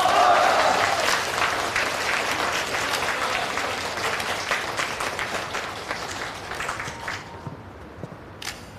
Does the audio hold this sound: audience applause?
yes